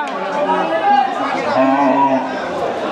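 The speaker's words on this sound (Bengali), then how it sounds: "প্রচুর পরিমাণ গরু আসছে আজকে বাজারে, ভালো ভালো অনেক বড় বড় গরু আসছে।" Cattle low in long, drawn-out moos at the busy Setabganj cattle market, loud and close, with faint crowd chatter underneath.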